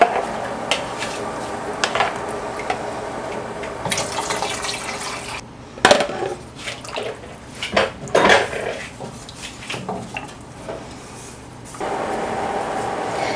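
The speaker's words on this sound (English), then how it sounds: "Now you stir and mix that thickness in with the broth." Thickened soup base is stirred into broth in a pot for a Hungarian cauliflower and mushroom soup, with spoon scrapes and clinks against the pot, liquid sloshing, and irregular bursts of clatter over a low background hum.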